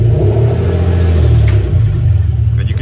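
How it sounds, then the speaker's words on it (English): Toyota JZ engine running on a Link ECU revs up, a loud close rumbling roar that rises and then settles back toward a throbbing idle. "I'm going to give her a little bit of a rev over there."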